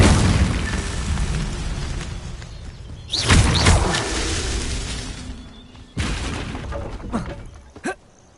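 An Incendio fire spell in Hogwarts Legacy bursts with a booming whoosh, followed by further blasts and pops over a rumbling background, with a brief sharp crack near the end.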